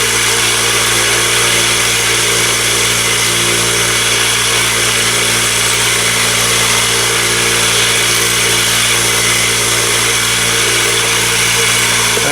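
A Lot-O rock tumbler loaded with shaped rocks and 500 grit aluminum oxide runs close by with a constant, even motor drone and a steady gritty rumble, unbroken throughout with no voices.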